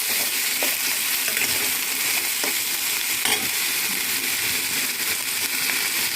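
Ingredients for coconut chutney fry and sizzle steadily in a pan, a loud continuous hiss with occasional faint stirring scrapes and clicks, and no talking.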